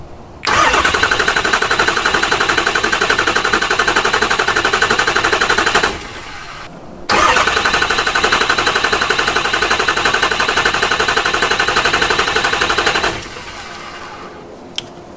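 Diesel engine starter cranking steadily in two long bursts of about five and six seconds, separated by a short pause, each ending in a quieter idle-like tail; loud and close with no talking.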